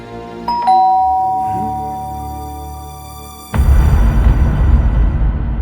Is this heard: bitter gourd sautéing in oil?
no